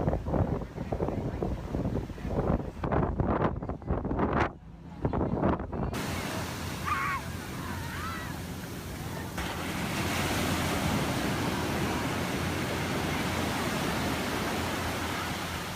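Ocean surf and wind at a beach reached by ferry, a continuous broad wash of waves with gusty microphone wind noise, loud and close, with no voices.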